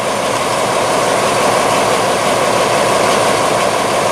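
A steady, loud diesel train engine drones at idle while stopped at Chiang Rak Noi station, a constant rumbling hum with no change in pitch and no other sounds.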